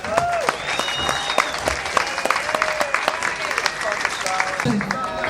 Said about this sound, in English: And why don't we give a big round of applause for Annie Raken.